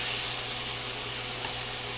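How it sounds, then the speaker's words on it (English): Continuous hissing sizzle from onions and peppers frying in a hot pan, steady and close, with no voices over it. "I love that sizzle sound"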